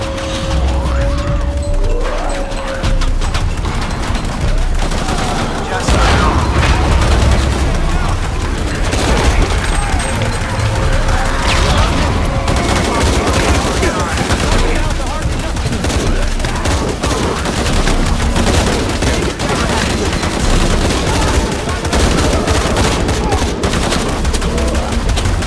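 Sustained rapid gunfire fills a Shadow of the Tomb Raider battle on PS4, dense overlapping bursts and crashes rolling on loudly and continuously, with occasional speech underneath.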